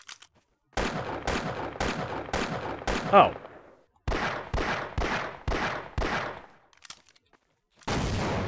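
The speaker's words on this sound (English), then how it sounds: "Who am I getting shot by?" Repeated bursts of gunfire in the Half-Life video game hitting the player, sharp loud volleys in a regular rhythm separated by short silent gaps, with one brief exclamation from a voice partway through.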